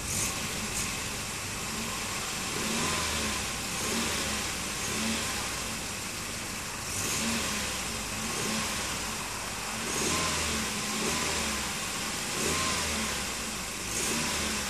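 A car engine revs repeatedly in a steady rhythm of swelling and falling surges over a continuous running drone, fairly close and with no talk.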